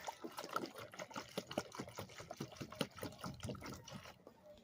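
Leaves for a Jamaican strong back drink rinsed under running water, a soft splashing trickle with small irregular splashes, close and faint, heard alone.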